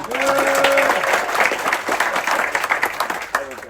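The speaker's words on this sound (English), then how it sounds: "Big applause for our Aditya" Audience applause for a crew member at a crew introduction celebration, a dense steady wash of clapping throughout with a voice and tonal sounds over the start.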